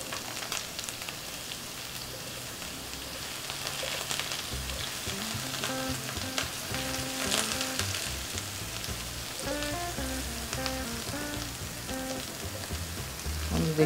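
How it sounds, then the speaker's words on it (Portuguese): Eggplant frying in a pan gives a steady, dense sizzle that runs the whole way through, with background music playing over it and no talking. "Deixar ela fritar."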